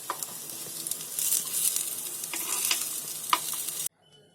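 Soybean appe sizzle in an appe pan as they are turned over, a close crackling fry with several light metallic taps and scrapes, ending abruptly in near silence.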